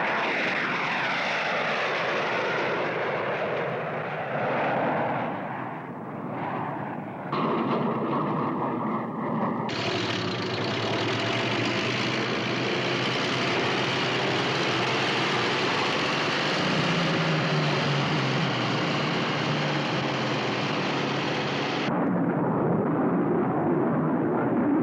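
A jet aircraft on landing approach roars steadily and loudly, with a broad engine rumble and a high whine that shifts in tone partway through, close and unbroken throughout.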